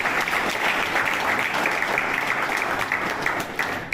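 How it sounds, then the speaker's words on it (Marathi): An audience at an Independence Day event at a residential de-addiction centre bursts into loud, continuous clapping that holds strong for several seconds, close and unbroken. "सगळ्या लोकांसाठी एकदा जोरदार टाळ्या झाल्या पाहिजे"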